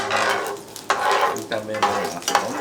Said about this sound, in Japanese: ほら、玉ねぎが跳ね出してきてる。